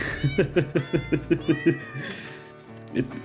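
Cat meows sung as a melody in a Christmas novelty song, a rapid series of about eight close, pitched meows in a steady rhythm, then a pause and a few more yowling, guttural cat notes.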